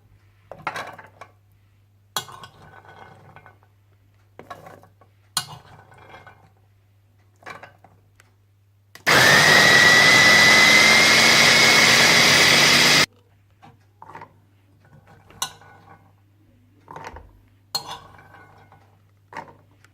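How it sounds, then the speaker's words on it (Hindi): An electric kitchen grinder runs loud and steady for about four seconds, blending black pepper, sesame, red chili and chickpeas for falafel, framed by sparse clinks of utensils and dishes before and after. "कुटी काली मिर्चें, सफेद तिल, कुटी लाल मिर्चें और चने डालकर अच्छी तरह से पीस लें।"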